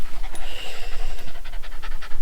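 Lapland huskies pant rapidly and loudly close by, a steady rhythmic huffing with no voices over it.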